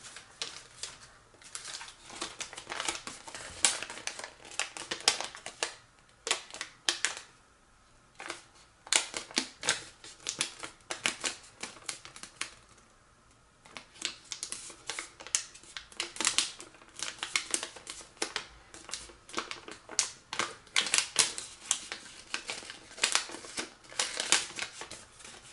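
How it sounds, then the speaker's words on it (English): Paper is folded and creased by hand while making an origami leaf, giving close, intermittent crinkles and sharp pressing taps in uneven bursts with short pauses, with no talking. "We're gonna fold this middle crease up to the new crease that we just created, and we're gonna fold it completely."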